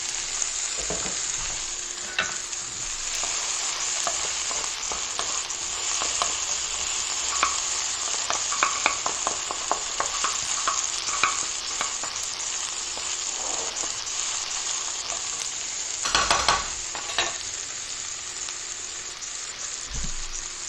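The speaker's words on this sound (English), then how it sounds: "You guys hear those sizzles?" Steady crackling sizzle of food frying in hot oil, continuous and close, with occasional stirring clatter and a brief louder burst near the end.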